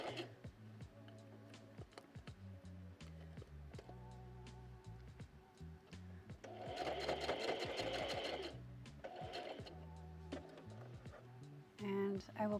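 A sewing machine stitches fabric in rapid mechanical bursts, running in several stop-start stretches with a louder sustained run midway, close by, while a person talks throughout.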